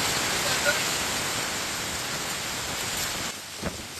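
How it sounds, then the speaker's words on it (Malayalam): Strong wind outdoors roars as a broad, constant rushing wash close to the microphone, easing slightly near the end. "ഫുള്ള് കാറ്റ്"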